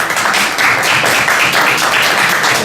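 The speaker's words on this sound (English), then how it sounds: "A big applause." Audience applause at a live talk-show conversation with architect Sou Fujimoto at an arts event, a dense steady wash of many hands clapping at close range for the whole stretch, with no voices over it.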